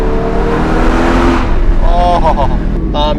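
Porsche Cayman GT4, a GT3-braked coupe with a Carrera engine, drones steadily inside a tunnel, its engine note echoing loud and close while a person talks over it.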